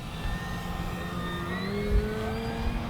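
An E-flite Carbon-Z Cessna 150T RC plane's electric motor hums steadily at quarter throttle, a loud continuous whine with a slowly rising tone as it passes over the runway, no voices.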